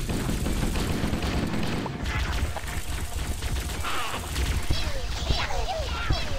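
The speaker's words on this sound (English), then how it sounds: "Why is there so many guys shooting me?" Enemy gunfire in Halo on Legendary at Truth & Reconciliation: dense overlapping bursts of shots and mechanical clatter, sustained and busy throughout, with someone talking over it.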